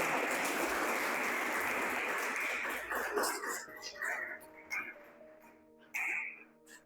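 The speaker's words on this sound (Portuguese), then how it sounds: "Vamos aplaudir a Jesus bem forte?" A church congregation applauds for Jesus in a broad, dense wash of clapping that fades after about three seconds into scattered claps, coughs and murmuring.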